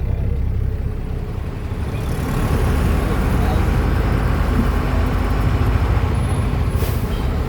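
Busy road traffic of motorbikes and cars at Narayanghat, Chitwan, forms a loud, dense, continuous rumble with engine drone close by and a brief high hiss near the end, under talk.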